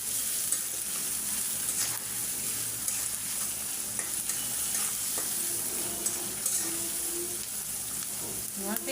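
Shredded papaya bhaji fries in oil with green chili, onion and salt, a dense continuous sizzle with stirring scrapes throughout, close and fairly loud.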